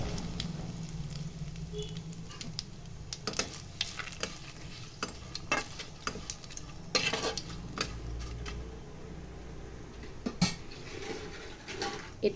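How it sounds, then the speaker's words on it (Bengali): Cumin, nigella seeds, dried red chilli and bay leaf sizzle in hot tempering oil, a steady crackling hiss close by with scattered metallic clinks and scrapes of a spatula against the pan. "ফোড়নে জিরে কালো জিরে আর দিচ্ছি শুকনো লঙ্কা তেজপাতা এতে"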